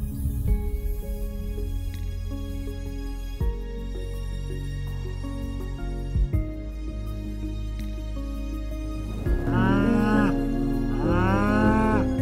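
Several long, drawn-out moos from a cow in great distress, with strong low tones and a couple of rising bellowing calls near the end, heard close and loud without any talking.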